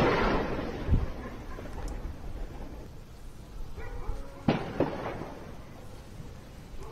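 Explosions and gunfire sound at Mianwali airbase in Pakistan during an attack, caught in news footage as a few scattered booms and sharp cracks over a rumbling background.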